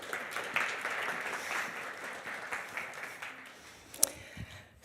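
Audience at a university hackathon opening day applauding, a moderate wash of clapping that gradually thins out, with one sharp knock near the end.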